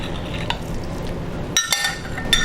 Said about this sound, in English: we're just gonna give those wet ingredients a stir and mix it up